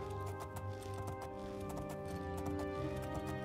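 Horse hooves clip-clop in a steady, even rhythm in the video game Oblivion, quiet and set against soft sustained background music.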